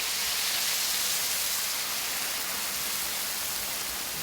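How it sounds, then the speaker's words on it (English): Beef broth pours into a hot pan of browned vegetables, giving a steady, loud hiss and sizzle that holds unbroken throughout with no talk. "Now that our vegetables are browned, we want to add our broth and the seasonings to the pan."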